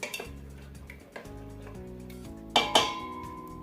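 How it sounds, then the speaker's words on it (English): A spoon scrapes and clinks against a metal pot while stirring steel cut oatmeal, with a few bright sharp knocks near the end, close and fairly quiet, no voices. "So, stir it up pretty good."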